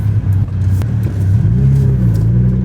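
A Mitsubishi Evo 8 on a test drive, its engine droning steadily inside the cabin with a low rumble, then revving up as the pitch rises and holds, loud and close, with no talk.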